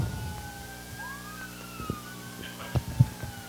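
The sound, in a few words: sirens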